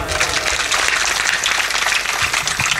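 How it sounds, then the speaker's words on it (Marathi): Dense, sustained applause from an audience at a village kirtan festival, steady and loud throughout with a faint trace of voices beneath. "सर्वांनी जोरदार टाळ्या वाजवायच्या।"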